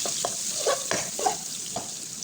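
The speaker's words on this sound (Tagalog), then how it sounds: "Haluin lang natin." A spoon stirs butter garlic crab and shrimp in a pan, with a soft sizzle underneath and several distinct scraping strokes at a steady rhythm, close and moderately quiet, with no voices.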